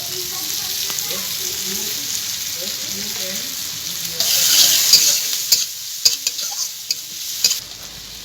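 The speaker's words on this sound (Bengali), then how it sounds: "পেঁয়াজটাকে আমি একটু লাল লাল করে ভেজে নেব" Onion fries in mustard oil with a continuous sizzle, broken by a swell of hissing midway and several sharp scrapes and taps of stirring toward the end, with no talk.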